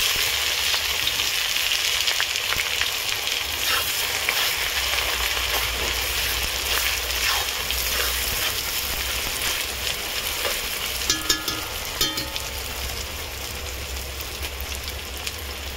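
Onions added to hot oil in a wok sizzle and crackle loudly and continuously up close, with occasional stirring scrapes, no voices.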